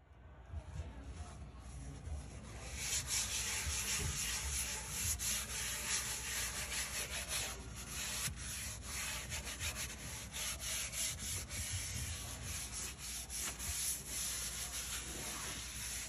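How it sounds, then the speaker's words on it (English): A wet surface sprinkled with baking soda and sprayed with vinegar gets scrubbed, a fairly quiet, steady rhythmic brushing and rubbing that goes on with regular strokes, close to the listener, with no talking. "and now I'm going to scrub it."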